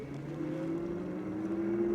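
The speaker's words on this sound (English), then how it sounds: "I can hear that motor." Ridstar Q20 electric bike hub motor running, a steady, moderately loud motor whine with a low tonal hum that stays even throughout, no talk.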